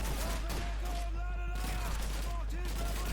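An AK-47-style rifle firing in the video game Call of Duty 2, rendered as a loud, continuous rapid burst of gunfire that fills the whole span, with a person's voice over it.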